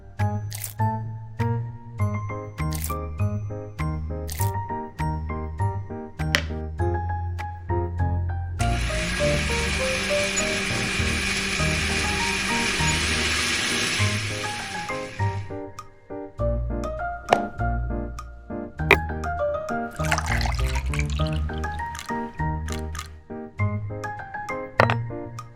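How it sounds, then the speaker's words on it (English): A blender whirs steadily for several seconds, blending diced watermelon flesh and rind in a small miniature kitchen, set between soft clicks and taps of tiny utensils. "Next, I blend both the watermelon flesh and rind."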